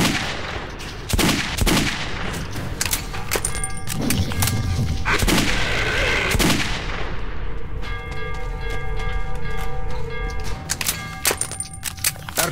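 Gunfire in the video game Metro 2033, with repeated sharp shots and bursts that are loud and close, ringing out across the whole stretch alongside other in-game noises.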